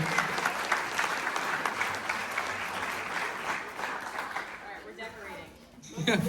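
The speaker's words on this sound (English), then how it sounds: "Can we just get a round of applause for them?" Audience applause at a middle school spring concert for a symphonic band, a sustained roar of clapping and cheering that thins near the end as voices come through.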